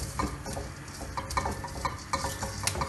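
Garlic and spices sautéing in a pan for Mysore rasam: a steady low sizzle under repeated scraping and stirring strokes, fairly close and continuous, with no talking.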